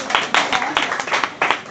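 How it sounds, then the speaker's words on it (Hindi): An audience at a networking talk claps in a short run of uneven, crisp bursts lasting under two seconds. "इनके लिए तालियां हो जाए जनाब"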